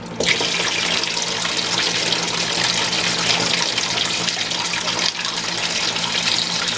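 Water sprays hard and steadily from a faulty American Standard toilet fill valve in a condo bathroom, a continuous loud hiss and splatter filling the whole stretch.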